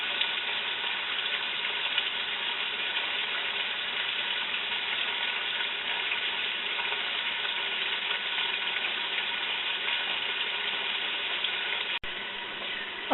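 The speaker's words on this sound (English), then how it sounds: "I've browned the meat" Pork browning in a pan gives a steady, continuous sizzle and fry that holds evenly throughout, with one brief click near the end and no talk.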